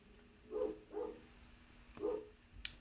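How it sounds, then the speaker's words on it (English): Dogs next door bark three times, sharp single woofs spaced a second or so apart, from a short distance away, with no one talking. "You might hear the dogs next door"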